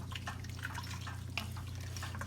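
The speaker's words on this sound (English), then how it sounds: "I'm definitely gonna add a little water to this" Water poured into a cooking pot of smothered beef on the stove, a soft, steady trickle with light dripping splashes, fairly quiet and heard alone.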